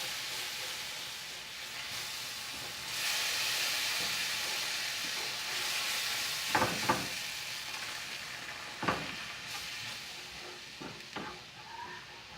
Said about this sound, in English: Now it's time to add our milk. Just slowly add it and keep stirring.